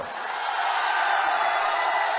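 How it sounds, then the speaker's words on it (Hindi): A large crowd at an Amit Shah election rally in Arwal cheers and claps for a local candidate, a steady, loud wash of applause and shouting with no clear breaks. "अरवल के हमारे प्रत्याशी मनोज कुमार जी के लिए जोर से ताली बजाओ जरा"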